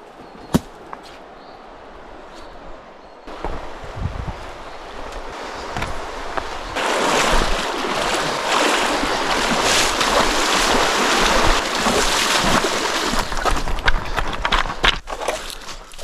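River flowing through a forest, a broad continuous rushing wash that swells louder after a quieter start, with occasional knocks and footsteps nearby.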